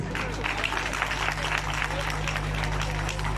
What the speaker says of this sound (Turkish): o güçlü alkışlarınızla teşekkür ediyoruz